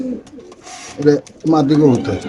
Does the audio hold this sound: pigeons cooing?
yes